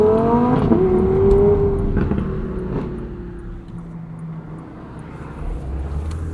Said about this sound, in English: Stop start has engaged, letting off the brake, turns back on seamlessly.